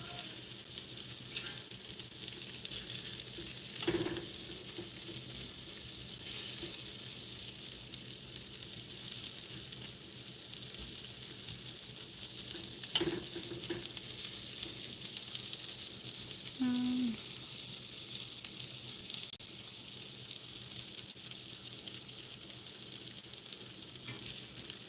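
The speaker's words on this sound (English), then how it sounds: "My shrimp's starting to burn, and I don't want that to happen." Shrimp fry in a pan with a steady, even sizzling hiss that runs throughout, close but soft, broken by a few faint clicks and utensil touches.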